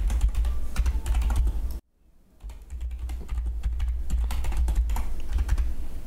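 Typing on a computer keyboard: a busy, continuous patter of close keystrokes that drops out briefly for a moment, then resumes just as steadily, with no voices heard.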